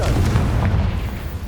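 Confringo fire-blast spell explosion in Hogwarts Legacy: a loud, deep, booming blast with rumbling low end that sustains steadily for a moment and fades only slightly toward the end.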